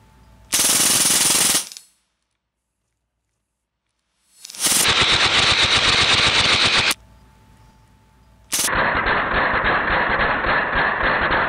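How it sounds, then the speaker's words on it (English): A Hatsan BLITZ .22 full-auto air rifle fires at a target 35 yards away in loud rapid bursts, each a dense mechanical rattle. Three long strings are separated by pauses of near silence and quiet background noise. "I'm gonna be shooting at 35 yards right now."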